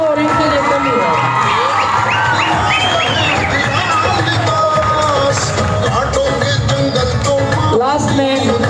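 Audience at a school Teacher Day event cheering and clapping, a loud, dense roar of shouts and whistles with scattered applause, children's voices prominent, continuing throughout with a speaker talking over the crowd.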